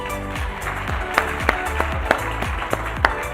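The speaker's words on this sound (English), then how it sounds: "Another round of applause." Audience applause at a business forum continues as a dense wash of clapping beneath music, with a few sharper individual claps standing out.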